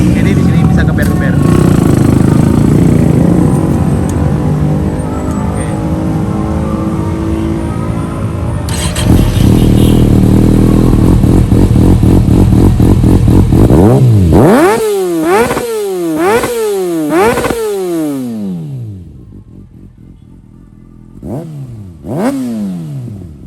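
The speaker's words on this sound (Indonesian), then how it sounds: "buat kalian yang penasaran suara knalpot Neser Speed Evolution 2 titanium di Kawasaki ZX636 gua, kita geber dikit" Kawasaki ZX636 motorcycle with a Nassert Evo 2 titanium exhaust, idling then revved in a series of sharp rising and falling blips at a Kawasaki dealership in Mampang, loud and close, with music and some talk early on.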